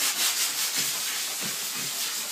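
Rhythmic hand sanding, sandpaper rubbing back and forth over wood in steady strokes with a soft scratchy hiss.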